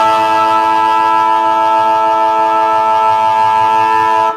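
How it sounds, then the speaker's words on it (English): A loud, sustained stadium siren at an Australian football match, Melbourne versus Richmond, with steady horn-like tones holds without a break for several seconds, with crowd noise rumbling faintly underneath. "If you haven't heard, that was the siren that just went off."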